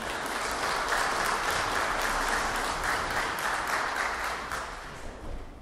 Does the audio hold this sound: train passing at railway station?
no